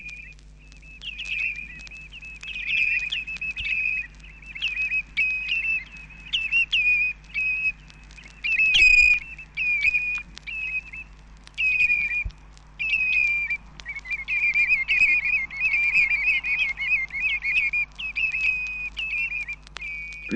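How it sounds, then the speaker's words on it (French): Common redshanks whistle on a seashore, their clear high calls coming in repeated ringing phrases with brief gaps, one breaking out louder near the middle over a steady low background hum. "Même le rivage marin peut être agrémenté de sons mélodieux, tels les sifflets des chevaliers gambettes."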